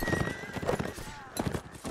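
A horse neighs, with clip-clopping hooves, during a cavalry line battle in a Napoleonic Wars video game, heard amid busy game noise while players talk over it.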